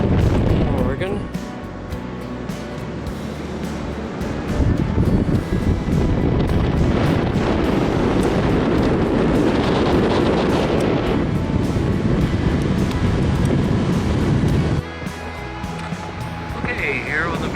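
Strong wind buffets the microphone over a continuous roar of ocean surf on the beach at Manzanita, Oregon, loud and close throughout.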